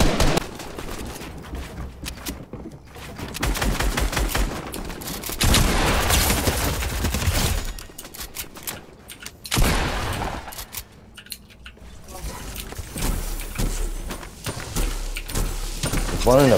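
Gunfire bursts from the Fortnite battle royale game, with rapid shots and louder volleys over about sixteen seconds, mixed with game sounds while players talk over the action.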